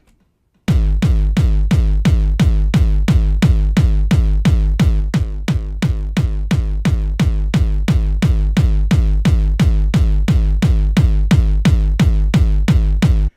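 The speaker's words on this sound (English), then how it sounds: "We'll use this kick drum." A punchy, booming electronic kick drum repeats in a fast, steady rhythm for over ten seconds, loud and unaccompanied.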